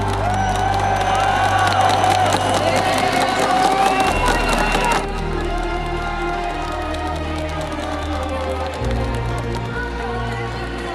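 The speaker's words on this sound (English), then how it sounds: "Surrounded by a Brazilian crowd who've got one thing on their mind" A Brazilian crowd at a Rainbow Six Siege esports final in Rio roars and cheers loudly and continuously, a dense wall of massed voices in a large arena, with a voice speaking over part of it.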